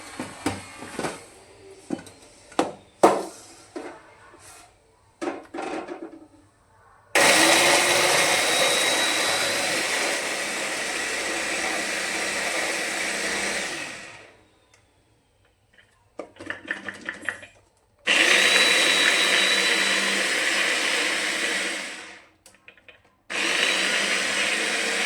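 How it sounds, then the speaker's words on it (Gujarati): An electric food chopper crushes Manchurian ingredients in loud motor bursts of several seconds, separated by pauses with light clatter and handling. "જો આ રીતે આપણે ચોપરમાં ક્રશ થઈ ગયું છે"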